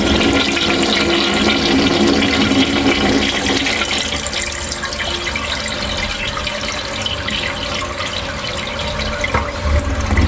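Toilet flushing with a loud, steady rush of water that keeps going for about ten seconds, close by and with no voices over it.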